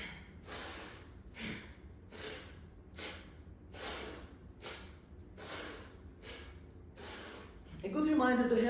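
A rhythmic series of about ten sharp, forceful nasal exhalations, close and evenly paced, made during a morning breathing exercise as the body springs upward, followed by a brief rustle at the end.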